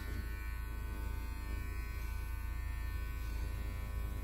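An electric beard trimmer buzzes steadily and close up throughout, a constant motor whine with no voices.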